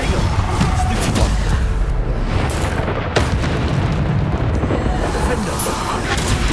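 Booming Bombarda spell explosions from Hogwarts Legacy burst repeatedly in a dense, loud barrage, with a voice shouting over the blasts.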